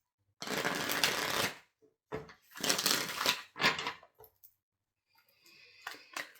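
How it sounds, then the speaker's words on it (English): A deck of tarot cards being shuffled in several bursts, with crisp riffling sounds close by and short pauses between them. "I'm going to shuffle these back in."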